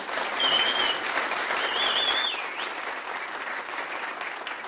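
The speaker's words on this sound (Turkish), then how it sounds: "Saz ekibime şöyle bir kuvvetli bir alkışlıyorum size." A crowd claps loudly for a saz ensemble at a Turkish folk music concert, a broad, sustained wash of hands that swells early, then eases slightly while thinning toward the end, with a faint melodic tone rising through the start.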